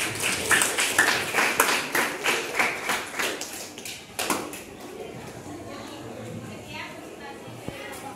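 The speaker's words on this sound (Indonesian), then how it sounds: "silakan beri tepuk tangan untuk kelompok 5" Classroom clapping for a student group, distinct claps in a loose rhythm for about four seconds, then fading into quiet room tone with light murmuring.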